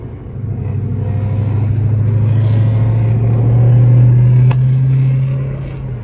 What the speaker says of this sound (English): Car sounds sluggish as fuck,